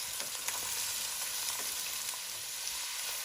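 Garlic and peppers sauté in a hot pan with a steady, bright sizzle, punctuated by a few light stirring scrapes, close and constant throughout.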